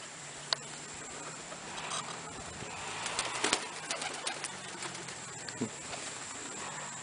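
Roller pigeons let out of their loft give soft, low cooing calls amid outdoor background noise, with a few light pats and wing flutters scattered through.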